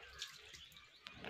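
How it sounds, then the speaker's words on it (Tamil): Water poured out at a village Gangaiamman temple ritual, a soft continuous splashing and trickling with faint dripping accents close by, a brief louder splash near the end. "தண்ணி ஊற்று."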